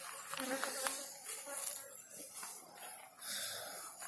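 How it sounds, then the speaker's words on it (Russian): A hornet circles near a beehive as it hunts bees, giving an intermittent, fairly faint insect buzz that rises and fades against a quiet outdoor background. "Кружится шершень, опять ловит пчел."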